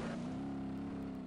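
A car engine in BeamNG.drive hums steadily at a low, sustained pitch, close and fairly quiet, with no talk.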